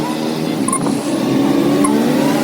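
Traffic stalled at a red light near Yeshwantpur Railway Station hums and idles close by, with a couple of short horn beeps cutting through.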